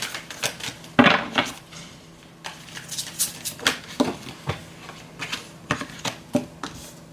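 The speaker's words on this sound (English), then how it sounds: "I'm shuffling it, but for a reason." Tarot cards being shuffled by hand produce a run of quick papery riffles and taps in irregular bursts, close and fairly clear.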